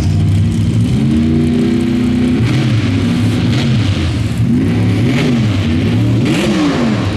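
Two pro stock drag race trucks, a black Chevy and the Ragged Edge entry, launch and accelerate hard down an outlaw drag strip, with loud engines rising and shifting in pitch over about seven seconds and no talk.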